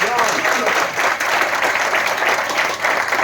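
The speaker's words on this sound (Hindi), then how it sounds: "एकदम जोरदार तालियां" An audience at a directors' experience-sharing event breaks into loud, sustained applause for a speaker, with dense, even clapping filling the room from start to finish.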